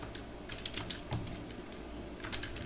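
Quiet typing on a computer keyboard, a scattered run of soft, irregular key clicks over faint background noise, with no voices.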